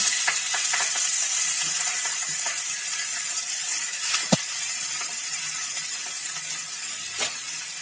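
Cleaned, chopped manathakkali greens land in a pan of sautéed onions and keep up a continuous close sizzle and hiss, with a few sharp clicks and one louder knock of a utensil against the pan, and no talking.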